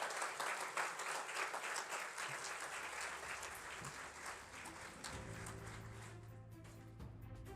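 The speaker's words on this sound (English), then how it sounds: "Big round of applause." At an awards night, a hall audience gives loud, continuous applause for a business school lecturer receiving a merit award. The clapping fades slightly and a low musical tone joins in beneath it toward the end.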